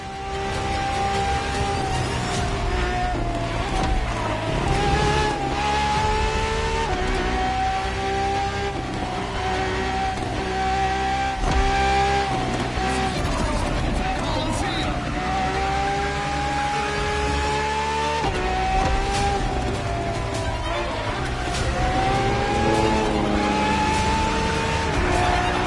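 A Ferrari FXX K supercar on a racetrack, its engine note rising and falling through shifts with steady loud revving and tire noise, continuous and close for the whole stretch.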